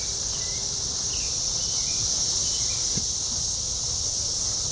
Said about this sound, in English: this is when brood X of the cicadas has emerged.